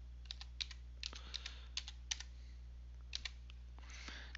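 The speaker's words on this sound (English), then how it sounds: "typing in the word revenue in the search field" Typing on a computer keyboard, light clicky keystrokes in short bursts with pauses between, faint and close over a low steady hum.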